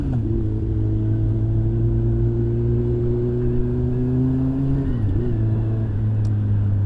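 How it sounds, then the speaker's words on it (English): A Honda Hornet motorcycle with a decatted Yoshimura GP exhaust idles and revs with a loud, deep, continuous drone that dips briefly near the end. "I put the Yoshimura can on there after I decatted the bike, and that was just crazy."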